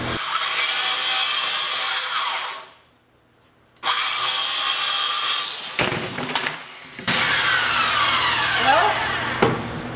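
Loud, harsh sawing through wood in long continuous runs during pole barn interior wall work, broken by a short silent pause and a few knocks before cutting resumes.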